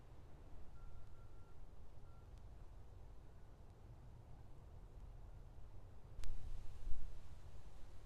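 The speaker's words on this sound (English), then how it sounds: "If you haven't heard it yet, you might notice some beeping. Construction, am I right?" Reversing beeps from a construction vehicle near the Mexican border, a few faint distant high tones repeating in a short series over steady outdoor background noise, followed by a sharp click and louder rumble.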